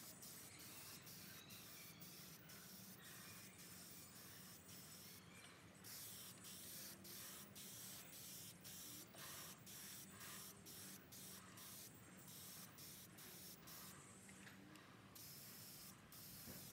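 A spray can hisses steadily as lacquer goes onto the fingerboard of a Red Special guitar, a loud continuous close spray broken by short pauses and bursts throughout.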